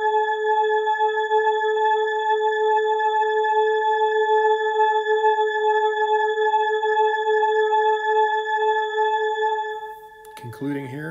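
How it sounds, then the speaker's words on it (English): A single pure 432 Hz sine tone holds steady and loud for about ten seconds, then cuts off and a brief sweeping electronic sound follows near the end. "recording here with just the single tone, the original tone."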